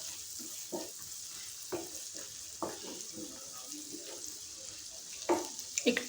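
Mushrooms frying in butter give a soft, faint sizzle under a steady hiss, broken by occasional stirring scrapes and light clatters of a utensil against the pan.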